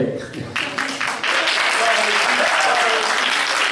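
An audience at a stage presentation in French breaks into dense, sustained applause, growing louder after a moment and clapping steadily to the end, with some talk beneath it.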